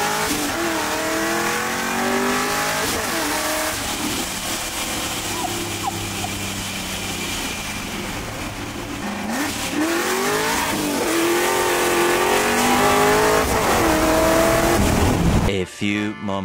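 Supercharged Mustang engine revving hard and continuously for about fifteen seconds, a loud rising and falling mechanical roar with people talking underneath, then cutting off abruptly near the end.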